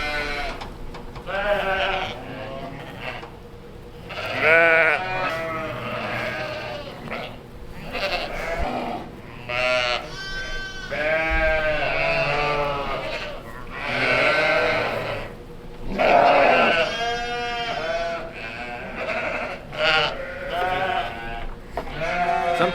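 A crowded barn full of sheep and lambs bleating nonstop, many overlapping calls near and far, loud and continuous throughout.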